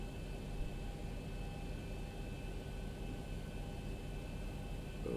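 Aircraft engine in the X-Plane 12 flight simulator runs steadily after start, a constant broadband drone with faint tonal hum heard from inside the cockpit, no voices.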